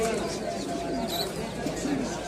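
Fancy pigeons coo softly in the background at a pigeon market in Jinjira, Bangladesh, low repeated murmuring calls beneath someone talking over them.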